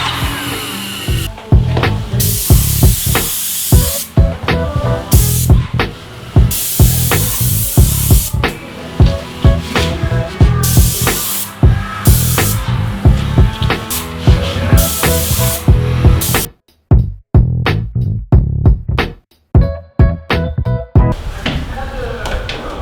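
A first coat of paint is sprayed onto a school bus conversion, long loud hissing bursts broken by short pauses, with a few quieter gaps near the end.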